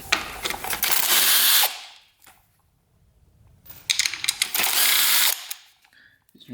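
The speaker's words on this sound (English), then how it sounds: "Now we can work on getting these bolts out." A hand ratchet works bolts loose on a Honda dirt bike, two bursts of rapid close clicking separated by a quiet pause.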